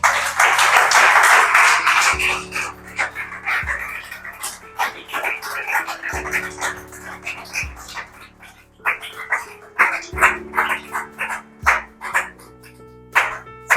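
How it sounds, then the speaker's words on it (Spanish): A church congregation applauds during a sermon, with dense clapping loudest in the first two seconds over steady keyboard music, then thinning into scattered claps and musical chords. "Den un aplauso al Señor Jesucristo."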